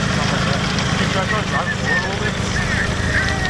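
A Mazda Miata idles roughly on old fuel, a steady, shaky low engine drone running throughout while people talk nearby.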